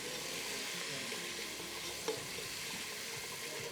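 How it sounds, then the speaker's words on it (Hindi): Whole green chillies fry in hot oil for an aloo gosht karahi, giving a steady, even sizzle across the whole stretch with one brief clink partway through and no talking. "ये वाली साबुत हरी मिर्चें डाल के इनको करना है फ्राई"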